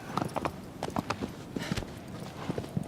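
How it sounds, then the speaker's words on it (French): A horse's hooves gallop across a windswept plain in the video game Shadow of the Colossus, a quick, steady drumming rhythm heard fairly faint against a soft wind bed. "le souffle du vent dans la plaine se mêle au halètement d'Agro, notre cheval, ainsi qu'à la battue de ses sabots"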